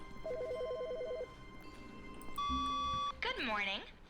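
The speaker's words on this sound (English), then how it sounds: "There's a phone ringing." An office desk phone in The Stanley Parable video game rings with repeated electronic trills, followed by a steady tone and a warbling chime, while a voice talks faintly beneath.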